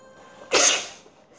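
One sharp sneeze, close and loud, bursting out and fading over about half a second in an otherwise quiet room.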